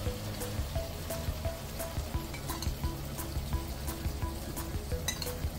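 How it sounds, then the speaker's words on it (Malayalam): Jaggery syrup poured into a simmering Kerala-style tamarind and ginger curry, a dense continuous sizzle with soft bubbling pops and light clicks heard alone at moderate volume. "ചക്കര പാനിയാക്കി ഒഴിച്ചു."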